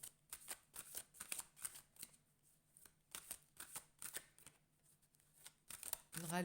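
A deck of oracle cards shuffled close by in repeated quick riffling bursts with brief pauses, fairly soft, ending in a louder flurry.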